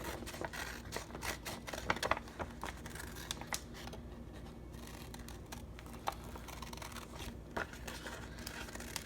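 Scissors snip through paper around cut-out snowmen in quick, close clusters of crisp cuts with short pauses between, faint and steady.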